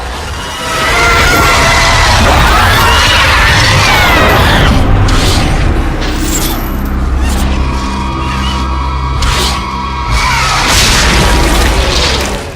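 Heavy booming bursts and crunching impacts as enemies' heads explode in the God of War video game, loud and continuous with dense layered game effects and no speech.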